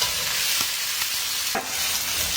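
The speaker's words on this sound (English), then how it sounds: "And I'm browning all the edges, so I'm just going to pick it up and hold it." Beef roast browning in a hot pan for a crock pot roast, giving a steady close sizzle and frying hiss throughout, with a couple of soft scraping knocks as the meat is handled.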